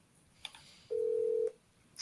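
A telephone keypad beeps once with a steady electronic tone lasting about half a second, after a soft click, with a brief sharper beep at the end in a quiet room.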